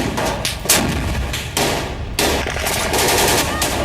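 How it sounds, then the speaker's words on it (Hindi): Continuous heavy gunfire from ISIS fighters, dense overlapping bursts of automatic fire and booming shots filling the whole stretch without pause, loud and close, with no voices. "इस वीडियो में आईएसआईएस के आतंकियों को लगातार फायरिंग करता हुआ दिखाया जा रहा है।"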